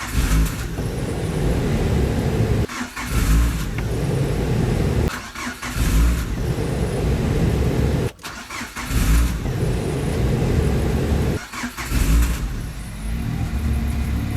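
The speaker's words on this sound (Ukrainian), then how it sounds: "можна запускати і запускати безліч разів цей двигун 2-літровий" A 2-litre car engine, powered by a Vorhut jump starter, cranks and catches several times in a row, each start followed by a running roar, then cut off before the next attempt.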